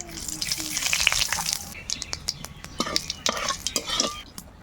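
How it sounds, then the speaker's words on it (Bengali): Whole cumin seeds hit hot oil in a wok, starting with a burst of sizzling and then breaking into sharp crackles, pops and metallic clinks of a utensil against the pan. "এবার দিয়ে দেবো কটা গোটা জিরে"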